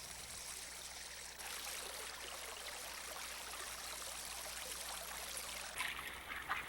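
Silver Bow Creek, a stream that carried industrial wastewater, flows with a steady broadband rush of water, growing fuller and louder after a moment and continuing without voices.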